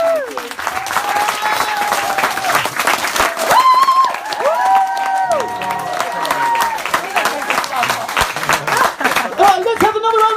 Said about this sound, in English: Let's have another round of applause for Sieze today!